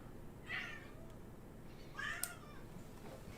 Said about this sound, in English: My cat is screaming at me.